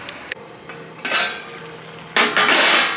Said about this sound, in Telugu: ఎగ్స్ వేసుకున్న తర్వాత ఒకసారి కలుపుకుందాం